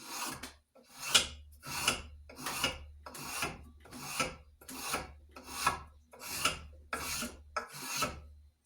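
Rasp filing a tapered fit on an Australian racing axe handle for a modified Council Tool racing axe, about a dozen even rasping strokes in steady rhythm, close and clear.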